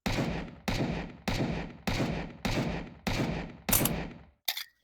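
A gun held one-handed in a video game fires seven spaced single shots at an even rhythm, each a sharp crack with a decaying tail, followed by a brief click at the end.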